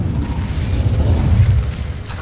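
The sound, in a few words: Incendio fire spell cast in a video game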